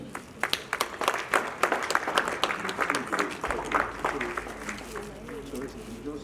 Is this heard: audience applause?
yes